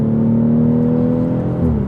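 A 2018 BMW X3 M40i SUV engine pulling hard under acceleration, a loud sustained droning growl that holds steady with a slight pitch shift near the end, heard close with no talking.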